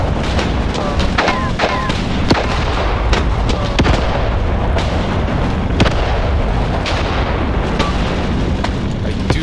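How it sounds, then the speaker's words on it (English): Grenade charge detonation in the war video game Graviteam Tactics amid a tank attack, a dense, loud battlefield din of blasts and sharp gunfire cracks rolling continuously over rumbling background noise throughout. "There goes a grenade charge."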